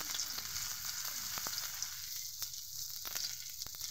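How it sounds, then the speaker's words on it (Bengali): Okra slices sizzle in hot oil for crispy okra and jute-leaf fritters, a loud continuous hiss with scattered pops and crackles, steady and close. "তেল গরম হয়ে গেছে, এখন আমি ঢেঁড়শগুলো আস্তে আস্তে দিয়ে দিব।"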